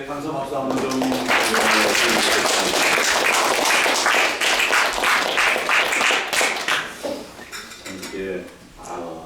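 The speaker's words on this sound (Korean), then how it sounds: "우리 목사님한테 감사 박수 한번 좀 드리겠습니다." A church congregation applauds its pastor with a sustained, crowded round of clapping that tapers off near the end, with a voice speaking over the final moments.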